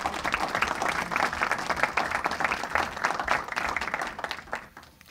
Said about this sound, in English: give our hardworking and dedicated employees a round of applause this evening.